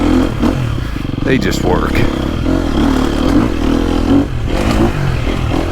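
2023 KTM 250SXF dirt bike on a tight woods trail, engine buzzing loud and steady with throttle rises and falls, clattering over terrain while someone talks throughout.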